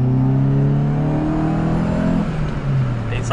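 A Chevrolet Astra accelerating along a city street, a loud, close engine drone that climbs in pitch and then eases off partway through, with no talk over it.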